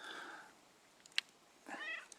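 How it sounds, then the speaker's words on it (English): A house cat gives a short rising-and-falling meow near the end, close and moderately loud, after a quieter stretch with a faint brief chirp; no one speaks. "Isn't having a cat like that just the best?"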